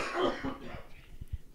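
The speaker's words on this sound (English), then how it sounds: "Coughing my ass off." Several short, dry coughs and throat-clearing bursts from a man, close up, spread across the moment with faint voice traces around them.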